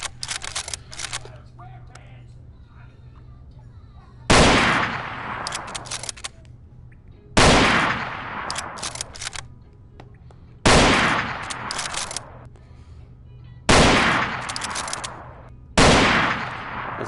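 Repeated bursts of Sten submachine gun fire in the Gun Club VR World War II shooting game, five sharp loud volleys spaced a few seconds apart, with quieter clicks and handling sounds between them.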